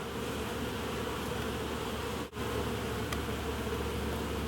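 Honeybees buzz in a steady, close, continuous hum around an open top-bar hive while brood-nest bars are shifted, with a brief dip in the middle and no talking.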